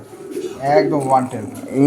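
A female racing pigeon coos in low, throaty, rolling notes close by, while a person speaks at the same time.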